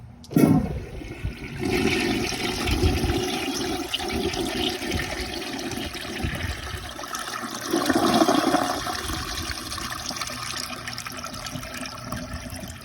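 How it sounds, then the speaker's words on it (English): A flushometer toilet opened only one full turn gives a weak flush: a sudden rush of water that settles into a steady gurgling wash for several seconds, then surges again briefly before trailing off. "I did one full turn on the flushometer, so this is gonna be a pretty weak flush."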